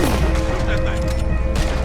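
Gunfire from a fight in Red Dead Redemption 2, a dense barrage of shots and booms running continuously beneath excited voices and game sound.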